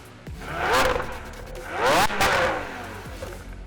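A Lamborghini Sian FKP37 at a delivery ceremony in Japan rolls slowly past with a low engine rumble that swells and fades, then a second rise as it moves by.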